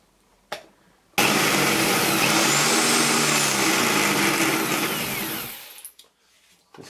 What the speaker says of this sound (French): C'est quoi cette perceuse?